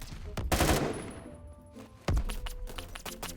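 Bursts of rapid AK-12 gunfire in Roblox Phantom Forces ring out, a couple of loud volleys followed by scattered shots, sounding like game audio close by.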